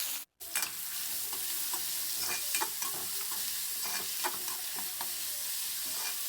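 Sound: onions and green chillies frying in hot oil

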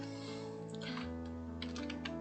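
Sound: typing HTML anchor tag text on a computer keyboard

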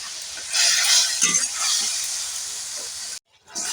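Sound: spices with ginger paste frying and being stirred in pan

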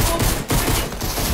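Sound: pistol gunfire in the Fortnite video game

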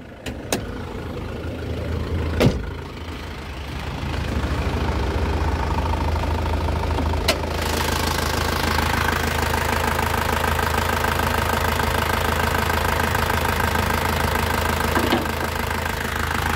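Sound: Isuzu Panther LV 2.5 diesel engine running

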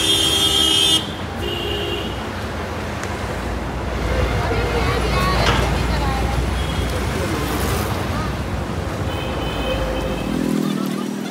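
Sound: heavy Delhi traffic with car horns honking

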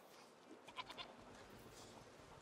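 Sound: goat bleating in video game A Plague Tale: Requiem

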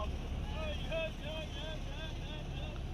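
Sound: boat moving on a river

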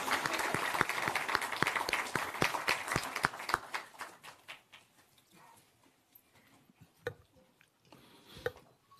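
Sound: applause welcoming at party meeting

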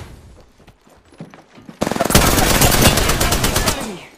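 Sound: gunfire in Apex Legends video game

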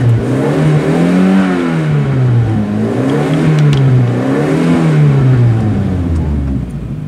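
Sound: car engine revving, running on Coca-Cola Zero fuel

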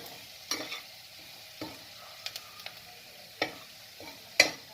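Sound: chicken and spice powder being stirred in a pan

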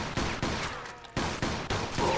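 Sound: gunfire in the video game Mafia 2

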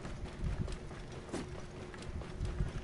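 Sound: horse hooves clip-clopping

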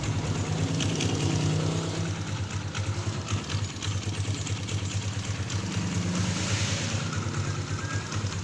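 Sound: motorcycle engine with rattling clutch housing

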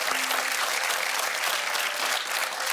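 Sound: audience applause

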